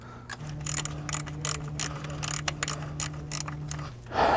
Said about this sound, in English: you could probably come in with a regular 12-point ratcheting wrench and you'll be fine